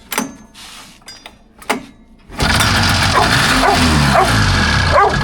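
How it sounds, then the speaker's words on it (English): Dogs bark in a garage near a 1982 Polaris Cutlass SS snowmobile being torn down, a few sharp barks before the engine roars to life and drowns the scene. "let me put the dogs outside"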